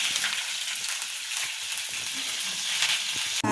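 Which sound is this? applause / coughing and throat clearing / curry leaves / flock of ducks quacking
curry leaves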